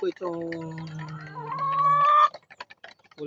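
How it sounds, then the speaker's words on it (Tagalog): Black Australorp hens cluck and call at close range in a backyard flock, with drawn-out, rising vocalizations followed by a few short clucks after a pause. "Ito po yung mga alaga kong Black Astrolot."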